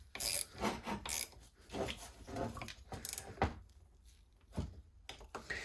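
A wrench tightening bolts on a Troy-Bilt TB35EC weed eater that won't run, giving a series of close, irregular metallic clicks and ratcheting rattles with short pauses between.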